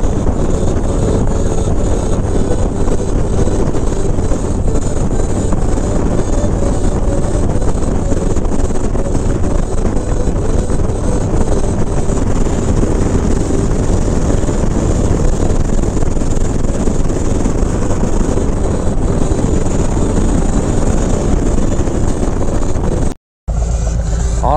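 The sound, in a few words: car exhaust with zombie baffles while driving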